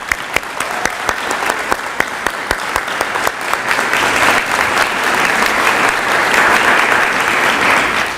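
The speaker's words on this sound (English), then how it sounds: "Would everyone humor me in giving our students another round of applause for coming up here?" An audience gives a ceremony's students another round of applause, a steady crowd clapping that starts with a few distinct claps and swells to a dense, even roar lasting several seconds, with no voices over it.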